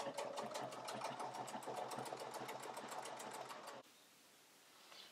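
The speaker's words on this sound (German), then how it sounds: "ihr fädelt zur einen Seite ein und einmal hindurch und näht das Ganze hier einmal fest" A sewing machine stitches a shoulder strap onto a cork fabric bag, running in a fast, steady mechanical rattle for several seconds before stopping abruptly and leaving faint room noise.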